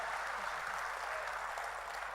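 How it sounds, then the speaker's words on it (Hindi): An audience at an outdoor Hindi poetry gathering during a Dussehra fair claps in a faint, distant, even patter with no pauses. "एक बार जरा मन भर के ताली बजाकर इसका मन बढ़ाइए"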